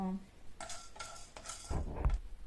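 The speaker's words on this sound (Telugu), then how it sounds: "కడాయి హీట్ ఎక్కిన తర్వాత పచ్చిశనగపప్పు వేసుకోవాలి. ఇది కొద్దిగా దూరగా వేయించుకోవాలి." Chana dal dry-roasting in a hot kadai, with a spoon scraping and clinking against the metal and dry lentils rattling in short bursts, fairly close and with no one talking.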